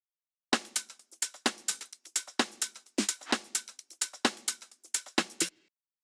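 Drum group samples loop in a tight groove, punchy kicks under rapid bright hat and shaker hits in a steady rhythm, close and clean with no talking.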